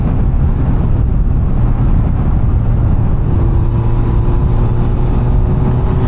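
A 2007 Honda Hornet 600 motorcycle on the move makes a loud, steady drone of engine and rushing wind. Its tone holds constant, with a faint rising whine near the end.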